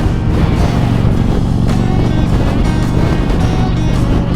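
Strong wind roars in loud, buffeting gusts right against the microphone, a dense continuous rush with no pauses.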